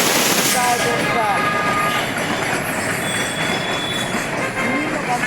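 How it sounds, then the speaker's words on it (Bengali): A freight train hauling cargo from Bangladesh rumbles past close and loud, a dense continuous roar of wagons and rails with faint squeals from the wheels and a few thin high tones. "এটা মাল বহন করে বাংলাদেশ থেকে যায় ট্রেনটা"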